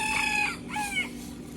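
Obnoxious farmyard roosters crowing twice in quick succession, the calls near and loud, with no talking.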